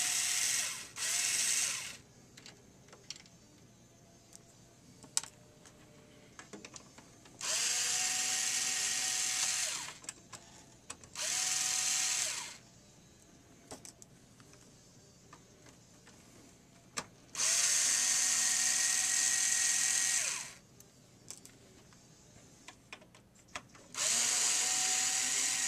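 Power screwdriver removing four screws from the fuser of a Samsung CLP-315W printer, in five separate loud whirring bursts of a few seconds each, separated by quiet gaps with faint clicks.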